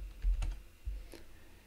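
Brief computer keyboard keystrokes as a shortcut is pressed while navigating in Android Studio, a few soft close clicks and thumps in a quiet room.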